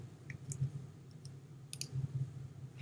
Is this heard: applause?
no